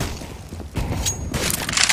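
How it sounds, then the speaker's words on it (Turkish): A grenade blast in CS:GO on the Inferno map during a competitive match, a sharp booming burst followed by more crackling impacts and gunfire-like bursts. "Çok iyi bir nade."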